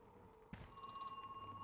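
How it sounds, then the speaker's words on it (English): Telephone ringing inside a mansion in the survival horror video game Crow Country, a steady electronic ring starting abruptly after a brief soft thump, fairly quiet and alone. "there's like phone ringing"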